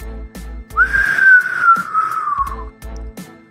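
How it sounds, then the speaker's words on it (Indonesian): A long, shrill whistle glides slowly downward in pitch, set between short bursts of low thumping. "Suara siulan itu semakin terdengar menyakitkan."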